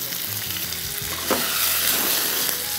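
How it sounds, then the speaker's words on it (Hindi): Chicken seasoned with oregano, crushed red chilli and salt fries over high heat in a pan, giving a dense, even sizzle that swells slightly louder partway through, close up with no talking. "बस इसके बाद इसको तेज़ आंच पे मैक्सिमम 5 मिनट फ्राई करना है"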